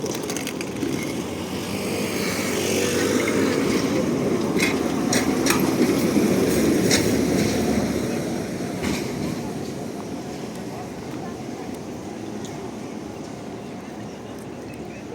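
A tram rumbles past nearby on the streets of central Lviv near Rynok Square, a steady rolling roar swelling and fading, with faint voices and street noise around it.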